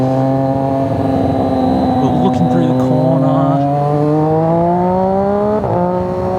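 A Triumph Daytona 675R motorcycle engine blips as it rev matches under trail braking into a corner, its steady tone climbing in pitch with a sharp blip near the end, heard close under someone talking.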